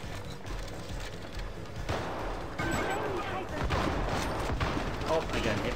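Gunfire in the video game Hypercharge: Unboxed crackles in rapid bursts, layered volleys of sharp shots that build toward the end, with players talking over the shooting.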